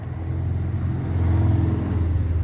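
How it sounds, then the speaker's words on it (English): A loud engine roars steadily at close range for the whole moment, a motorcycle going by with a deep, slightly rising rumble and no voices over it. "loud bike"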